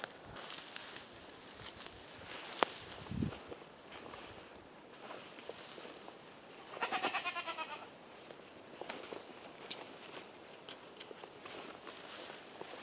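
A goat bleats once in a short, wavering burst while being fitted with a coat, amid quiet rustling, shuffling hooves and small handling noises close by.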